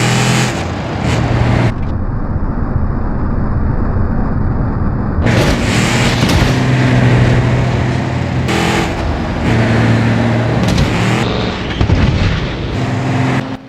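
A Chevrolet Silverado in BeamNG.drive overtakes a truck, loud engine and road roar with abrupt cuts and bursts, heavy rumbling impacts and shifting tones, dense and close throughout.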